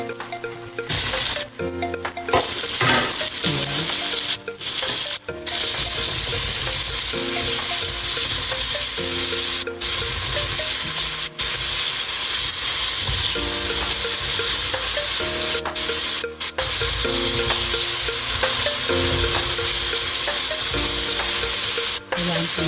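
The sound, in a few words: onions and tomatoes sautéing in a pan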